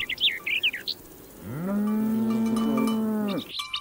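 A single long cow moo from grazing cattle on an open meadow, rising from about 1.5 seconds and holding steady for two seconds before dropping off, with birdsong chirping before and after it.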